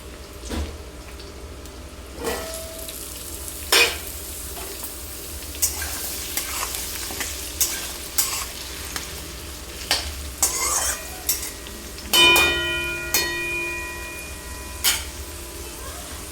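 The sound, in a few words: cut potatoes frying and being stirred with onions in pan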